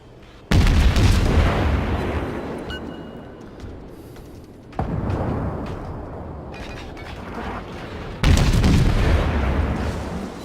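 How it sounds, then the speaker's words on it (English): Naval guns firing volleys in World of Warships, aimed at a Pensacola cruiser from a Konigsberg: three heavy booms, each a loud sudden blast that rumbles off slowly, spaced a few seconds apart with no speech. "Firing a couple more volleys at that Pensacola"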